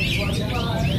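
Songbird at a bird-selling kiosk chirps repeatedly in short bright tweets, mixed with a busy background where people talk nearby.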